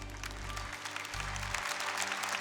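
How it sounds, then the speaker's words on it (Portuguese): A church congregation claps together in a warm, even burst of applause, moderately distant and filling the room, with a low musical drone underneath and no clear talk over it. "Dá uma salva de palmas para Jesus."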